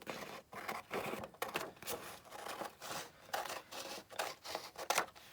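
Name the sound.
scissors cutting a paper page down the middle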